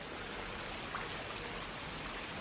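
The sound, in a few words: rain falling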